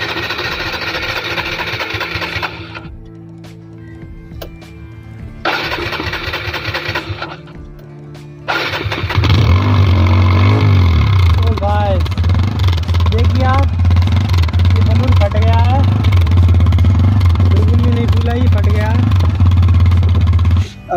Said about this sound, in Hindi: तो चालू करते हैं बाइक को,